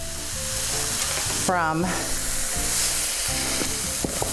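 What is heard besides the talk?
onions and peppers sizzling in a pan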